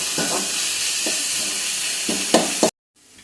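Onions frying in a pan for a squid fry, a steady hiss and sizzle with a few louder stirring scrapes near the end before the sound cuts off abruptly.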